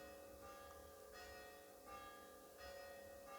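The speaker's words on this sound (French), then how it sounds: "on entend les cloches" Church bells ringing in a slow, repeating pattern, soft and distant, with resonant tones overlapping as each strike fades.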